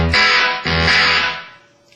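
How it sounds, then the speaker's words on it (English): A ThroBak Overdrive Boost guitar pedal set to a thick fuzz tone, two loud sustained distorted guitar chords struck in turn, the second ringing out and fading away, with no voice. "here's one of the cooler fuzz type tones that this has"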